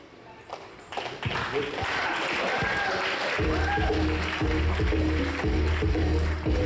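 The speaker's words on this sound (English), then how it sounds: "nice round of applause out here for Aparna and Sriyam" Guests at an Indian wedding reception break into applause, the clapping swelling from scattered hands into steady, fairly loud crowd applause with voices and a low musical hum underneath.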